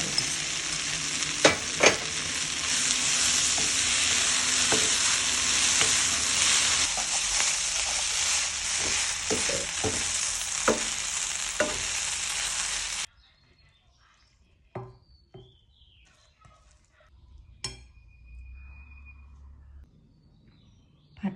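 Pink noodles stir-fried with spring onion and egg sizzle loudly in a hot pan with scraping stirs for about thirteen seconds, then the frying stops and only faint clinks and small kitchen sounds remain.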